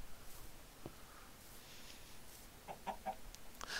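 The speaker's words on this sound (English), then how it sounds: "Chickens." Chickens in the video game Minecraft give a few quick, soft clucks late on, faint against quiet background noise.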